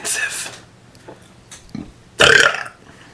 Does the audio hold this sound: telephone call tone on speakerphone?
no